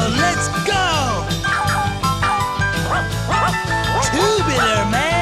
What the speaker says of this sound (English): The dogs would bark occasionally during the songs.